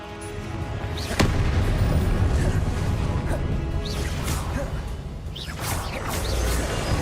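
Repeated fiery spell blasts crackle and boom through Hogwarts Legacy combat, a loud sharp hit near the start followed by dense rumbling, whooshing bursts and magical swishes, with a voice calling spells over the din.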